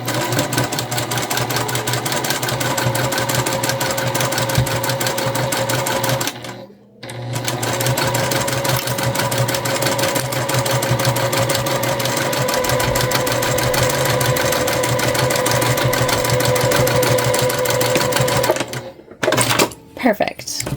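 A sewing machine runs steadily while stitching straight across fabric pieces for a holiday makeup bag at a quarter-inch seam, with back stitching. It sounds loud and close, with a brief pause near seven seconds and a few short stops near the end.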